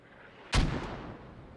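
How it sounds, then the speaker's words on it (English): A single heavy explosion from a mortar barrage in the World War II shooter Post Scriptum bursts out suddenly, then a rumbling tail fades into a low ambient hum, with no voices. "We've got a mortar barrage going down."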